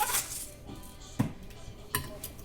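A utensil stirs salt and pepper into a pot of mashed potatoes, giving a few soft scrapes and three distinct clinks against the pot, faint and close.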